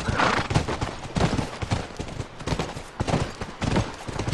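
Horse hooves clip-clop steadily in The Last of Us, a repeated rhythmic clatter close by that carries on for several seconds with no talk over it.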